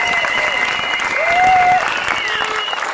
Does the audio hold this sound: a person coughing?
no